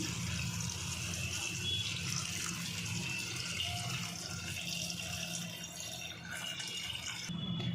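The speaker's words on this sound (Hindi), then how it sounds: "और अब इसमें मैं 2 गिलास पानी ऐड कर रही हूँ।" Water pouring steadily into a pressure cooker, a continuous splashing rush with no talking, fairly close and even throughout.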